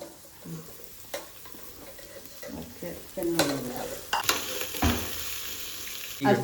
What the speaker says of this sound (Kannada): ಇದಕ್ಕೆ ಇವಾಗ ಹೀರೆಕಾಯಿ ಹಾಕ್ತಾ ಇದ್ದೀನಿ